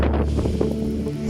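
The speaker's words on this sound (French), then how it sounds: "il y a trop de vent. Il y a des grosses bourrasques qui recouvrent très rapidement les traces." Strong wind gusts buffet the microphone on a snowy Mont-Blanc slope, a loud, close, low rumbling roar over the whole short stretch.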